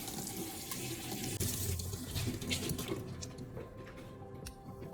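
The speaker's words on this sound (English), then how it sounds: "rinse the scissors lightly under running water to remove any salt or vinegar" Scissors rinsed under a running kitchen tap, a steady close stream of water splashing and gurgling against metal blades in a sink, continuous throughout with no voices.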